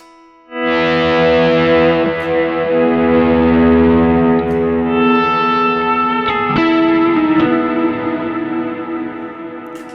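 A loud, distorted electric guitar chord through a Kemper amp rings out with heavy reverb and delay, sustaining and trailing off slowly, with a second hit midway.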